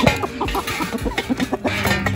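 A rooster clucks in a quick string of short, close, fairly loud notes with steady rhythm and a busy background.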